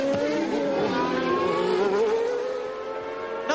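Formula One cars from the semi-automatic gearbox era, Nigel Mansell and Alain Prost running close together to complete lap 54, roar past in a loud, continuous high-revving engine whine whose pitch shifts as they go by.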